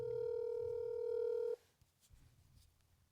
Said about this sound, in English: All right, making the phone call.